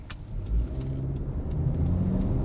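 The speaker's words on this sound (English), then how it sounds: "Off the line, it's a little bit sluggish to accelerate, but once it sees some revs, it will start to pull a little bit harder." A 2023 Honda CR-V EX-L AWD with a CVT pulls away from a stop, its engine a low, steady hum from inside the cabin that builds gently, with no talk.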